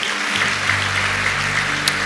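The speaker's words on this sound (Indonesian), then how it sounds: "Berikan tepuk tangan kita untuk Tuhan kita." Church congregation clapping during a Sunday service, a continuous even patter of many hands with a low hum underneath, steady and moderately loud throughout.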